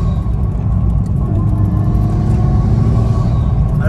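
A Mitsubishi Lancer Evolution VIII Stage 2 rally car engine, heard loud and close from inside the car, gives a dense, steady rumbling drone with no voices over it.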